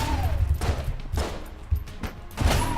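Enter the Gungeon gunfire from a strong short-range gun with heavy knockback, several loud, punchy blasts at irregular intervals about half a second apart, close and alone.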